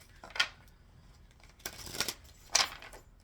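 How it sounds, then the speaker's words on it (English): Cards are shuffled in three short, crisp bursts of riffling with quiet pauses between them, close and fairly soft. "And then I'll shuffle these."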